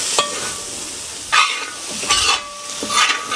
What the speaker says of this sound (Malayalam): എല്ലാം ഇട്ട് നല്ലോണം ഇളക്കി കൊടുക്കുക.